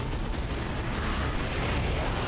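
Noise marines fire noise guns in the Warhammer 40K strategy game Dawn of War 2 Retribution: a dense, loud, continuous barrage of booming blasts and bursts with no pauses.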